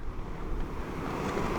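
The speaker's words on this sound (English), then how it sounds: "Yeah, the wind is very powerful." Strong wind blows by a lake, a rough, continuous roar of gusts buffeting the microphone, loud and steady throughout with no voices.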